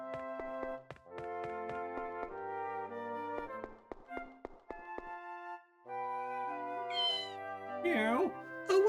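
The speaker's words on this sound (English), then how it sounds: "Oh, what a cute cat! Here, kitty kitty!" A cat meows repeatedly in the video game Tales of Innocence, short tonal calls over soft game music, ending with a rising, wavering meow near the close.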